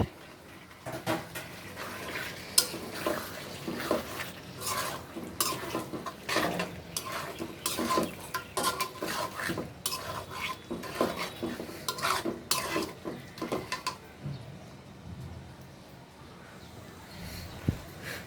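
Chicken pieces stirred into fried spice paste in a cooking pot for a thin chicken curry, with repeated scraping and clinking of a spoon against the pot over a light sizzle, fairly close and steady throughout.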